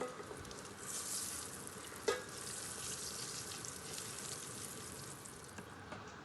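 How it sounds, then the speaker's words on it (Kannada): A tempering of curry leaves and turmeric fries in a pan for palak dal, giving a soft, steady sizzle with a brief clink partway through. "ಇದು ಫ್ರೈ ಆಗಲಿ ಈಗ ಇದಕ್ಕೆ ಕರಿಬೇವಿನ ಸೊಪ್ಪನ್ನು ಸಹ ಹಾಕಿದ್ದೇನೆ"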